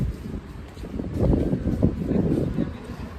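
Cold wind blowing outdoors along a street by the Eyüp Sultan municipality, heard as a low, rumbling buffeting against the microphone that swells and stays steady through the second half, with no talking.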